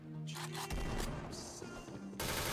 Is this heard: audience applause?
no